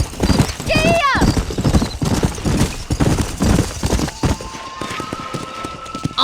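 Horse hooves clip-clop at a gallop in the Red Dead Redemption video game, a steady rapid beat with a whinny near the start, mixed with game music and a voice talking.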